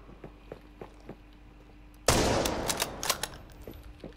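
Gunfire in the shooter game Arena Breakout: Infinite: faint distant single shots tick along, then a sudden loud close burst of rapid fire with several sharp follow-up shots.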